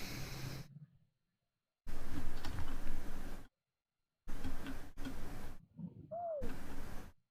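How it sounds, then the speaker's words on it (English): A bird outdoors coos in short repeated calls, in bursts separated by silent gaps, with one rising whistle-like call near the end, moderately faint. "One of the birds out there is just going like, woo, woo."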